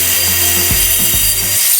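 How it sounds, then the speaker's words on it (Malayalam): A cutter saws through a piece of wood for a Christmas crib, a short, loud burst of rasping strokes close to the ear, with no talking. "കട്ടർ എടുത്തിട്ട് നമുക്കൊന്ന് തടി കട്ട് ചെയ്തെടുക്കാം."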